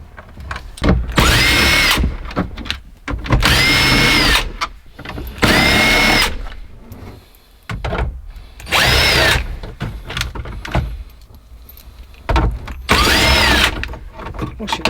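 A power drill runs in several short bursts, whirring up and winding down, as it backs screws out of the dashboard of a 2012 Chevy 2500HD truck, heard loud and close with pauses between runs.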